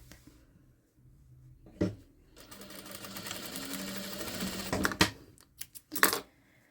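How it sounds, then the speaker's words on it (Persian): A sewing machine runs in bursts while stitching and folding a seam on a hooded leather raincoat with full lining: a short start, then a steady whirring run of a few seconds, followed by several brief clacking stitches. "حالا اینجا رو به این صورت تا میکنم و مجدد اینجا رو میدوزم به این صورت"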